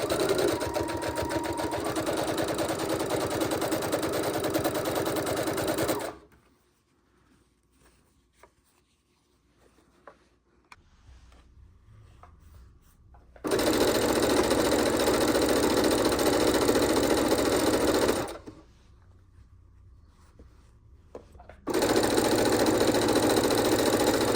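A sewing machine stitches quilt scraps one piece at a time, running in steady, loud, continuous bursts that stop for quiet pauses and then start up again.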